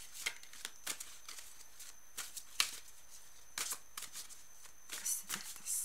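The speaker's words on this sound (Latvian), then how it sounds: "Velkam kārtiņas šai nedēļai." Tarot cards shuffled by hand in a quiet room, a run of crisp riffling bursts and soft slaps repeating in uneven waves, close and fairly faint, with no voices.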